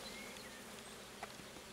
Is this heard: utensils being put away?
no